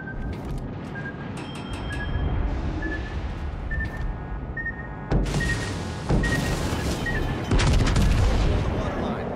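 Torpedo hits strike a battleship in a naval video game, a run of heavy booming blasts and rumbling impacts that build in loudness, mixed with game effects and tonal alert chimes.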